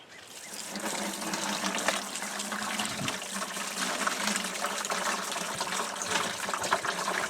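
Running water gushes steadily over a batch of tumbled stones as they are rinsed off, a continuous splashing hiss close up with faint knocks of stones shifting underneath.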